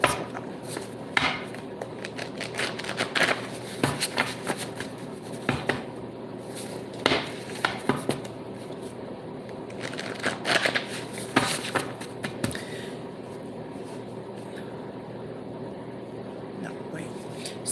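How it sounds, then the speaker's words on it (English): Tarot cards are shuffled in repeated bursts of crisp riffling and slapping, close by, with short pauses between each shuffle. "Let's do 2 more shuffles."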